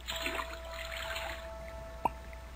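Water is collected in the Super Club Penguin video game: a soft running, trickling water effect ends with one short, sharp drip or plip, with no talking.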